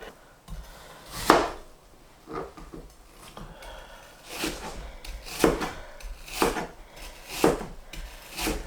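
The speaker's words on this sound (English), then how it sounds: "I will be able to just chop it with a knife" An apple being chopped with a knife on a board: several crisp, rasping cuts spaced through the stretch, clustered near the end, close and fairly quiet with no talk.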